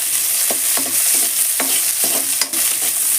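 Two large onions frying in hot oil for gongura chutney, a bright constant sizzle close up, punctuated by repeated clinks and scrapes of a stirring spoon against the pan.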